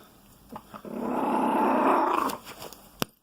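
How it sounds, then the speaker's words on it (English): A grumpy dog gives a single low, rumbling growl lasting about a second, close by, with a few soft clicks and rustles before and after. "This is a grumpy dog."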